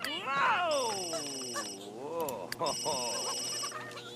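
A repeating electronic phone ring in The Sims 3, in two bursts with a pause between, heard under a meowing cat and voices.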